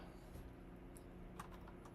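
Quiet typing on a computer keyboard during a coding session, soft scattered key clicks over a steady background hum, faint and close, with no talking.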